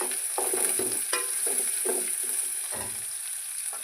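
Garlic stirred into a hot pan with mustard seeds and cumin for a North Karnataka village-style avarekalu palya, soft sizzling under a series of spoon scrapes and taps, close and without talk.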